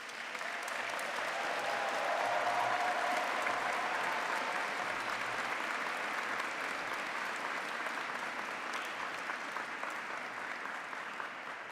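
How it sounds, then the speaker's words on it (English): Sustained applause from a graduation audience in St. Paul's Cathedral honouring the staff, a dense steady wash of clapping filling the hall throughout. "the graduates would really like to show that appreciation with a round of applause"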